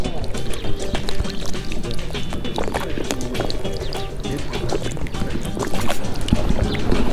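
Water spills and splashes from an outdoor drinking fountain in Garni, Armenia, a continuous close trickling and pattering with brief drips, while people talk nearby.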